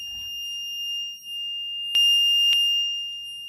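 A 555 timer metal detector circuit sounding through a small speaker: a steady, thin, high electronic tone running throughout, faint and alone, with two sharp clicks near the end.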